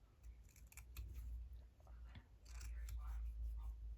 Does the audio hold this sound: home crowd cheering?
no